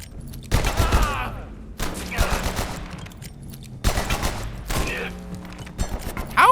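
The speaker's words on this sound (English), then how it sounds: "How many times do I have to shoot you" Bursts of video game gunfire, three or four loud clustered volleys separated by short pauses, close and punchy, with a voice talking between them.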